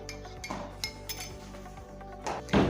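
A spoon clinks against the sides of a cup while Nescafe coffee is mixed, light rhythmic taps and scrapes repeating close by, with a louder clatter near the end and no talking.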